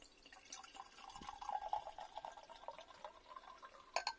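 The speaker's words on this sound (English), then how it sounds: "Pour it out." Kingston Black cider is poured into a glass, a faint, close trickling and glugging of liquid with a rising fill tone, quiet and without talk.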